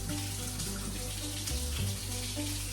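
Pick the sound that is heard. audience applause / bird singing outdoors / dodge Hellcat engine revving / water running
water running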